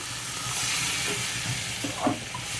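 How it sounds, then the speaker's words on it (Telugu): Water poured into a simmering egg curry in a pan gives a steady, close hiss and sizzle with faint bubbling, and no voices. "దీంట్లో మనం కొంచెం నీళ్ళైతే పోసేద్దాం."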